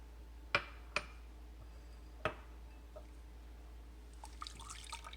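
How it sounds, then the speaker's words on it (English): Half and half poured into a pan for cauliflower mac and cheese: a few sharp clinks at the start, then a soft, quiet liquid trickle near the end. "in our pan, we're going to go ahead and add our half and half"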